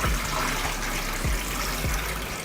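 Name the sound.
water running while rinsing chicken wings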